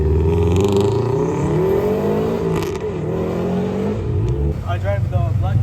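Loud, steady car engine drone that rises and dips in pitch as it revs, with a brief voice speaking near the end.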